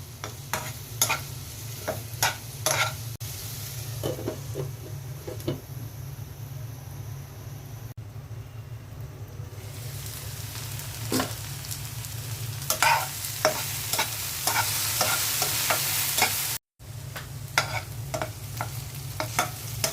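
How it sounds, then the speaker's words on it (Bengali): Okra fries in a pan with oil, salt and a little turmeric and no water, giving a steady soft sizzle broken by repeated scraping stirs of a spatula, with no talk. "ঢেঁড়স ভাজা হয়ে গেছে।"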